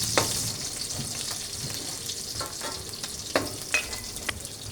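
Plenty of garlic sizzling in a hot pan for chicken feet adobo, a steady crackling fry broken by a few sharp clicks and scrapes of stirring.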